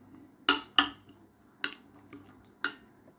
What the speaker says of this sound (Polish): To wszystko dokładnie mieszamy.